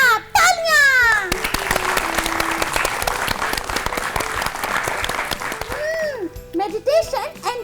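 Loud applause and cheering for a correct answer on a children's quiz show, a burst of clapping with music stings and sound effects around it, rising and then fading near the end.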